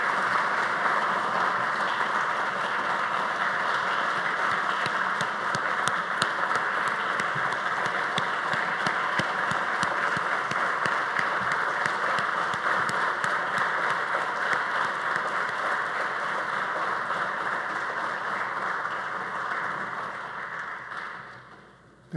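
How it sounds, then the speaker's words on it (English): Ceremony audience applauding Professor Kenneth Julien at a building dedication and honouring event in Trinidad and Tobago: a steady, dense roar of clapping from a large crowd, sustained for about twenty seconds before tapering off at the end. "Let us join in giving a resounding round of applause to this most outstanding son of the soil of Trinidad and Tobago."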